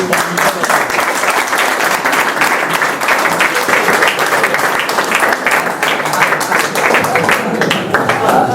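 An audience applauds during a visit to the Sidi Moussa national team training centre, with loud, continuous clapping that holds steady from start to finish.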